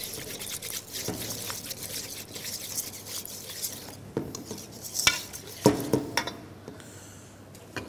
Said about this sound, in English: Just whisk them together for a little while.